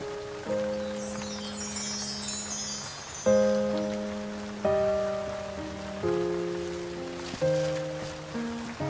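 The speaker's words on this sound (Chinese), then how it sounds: "下雨了还不跑去，为什么走着淋雨啊？" Rain falls steadily as a soft hiss, heard under sustained piano-like music chords.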